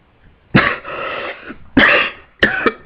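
Three loud, close coughs from a person, the first a harsh burst trailing into a rasping exhale, followed by two sharper, shorter hacks.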